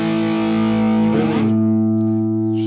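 Distorted electric guitar tone from the bridge humbucker of a Donner DST-550, a loud sustained chord ringing out, with a brief scrape or change partway through before it holds again.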